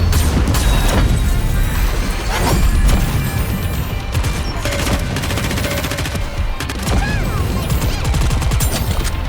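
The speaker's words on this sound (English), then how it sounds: "Keep shooting!" Gunfire in the mobile shooter game Nikke: Goddess of Victory, loud sustained bursts of rapid shots and impacts with booming hits, continuous and close over about nine seconds, with game music and effects mixed in.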